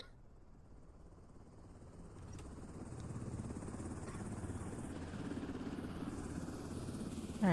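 A low, steady video-game helicopter engine drone rumbles throughout, growing slightly louder partway through, with no talking.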